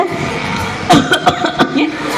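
A few short, sharp coughs come in quick succession, mixed with voices and a bit of light laughter nearby.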